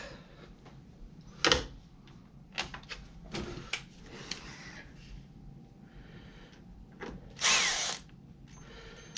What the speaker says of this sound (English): You gotta kind of push hard because it's cutting its own threads as they're screwing in.